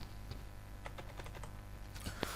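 Quiet, close typing on a computer keyboard, with irregular clusters of key clicks and a brief faster burst near the end, with no voices.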